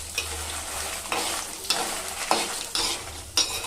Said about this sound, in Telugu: ఇవన్నీ కూడా మీడియం టు లో ఫ్లేమ్లో మాత్రమే వేయించుకోండి, మంచి కలర్ వచ్చే వరకు.